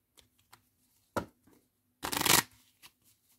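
Tarot cards being reshuffled by hand, with a few soft flicks and taps, then one dense riffling burst near the middle, close and fairly quiet, and no talking.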